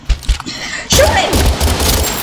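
Rapid automatic gunfire in the game Totally Accurate Battlegrounds, a few sharp shots followed by a loud sustained burst of fire, close and dense, with voices shouting faintly in the background.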